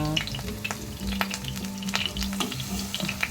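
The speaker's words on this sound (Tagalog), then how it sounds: "Pinprito ko na lang. Pinprito naton sa canola oil canola oil" Sliced bananas fry in canola oil, giving a steady, close sizzle and crackle with a continuous bubbling hiss and occasional pops.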